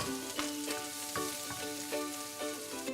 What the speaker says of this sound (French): Un peu d'huile dans le wok et on vient y déposer l'ail et le gingembre qu'on a haché.